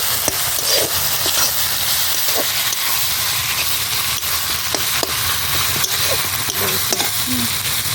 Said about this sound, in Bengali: পাকা লঙ্কা বাটা, শুকনো লঙ্কা, মশলা দিয়ে এবার কষাবো।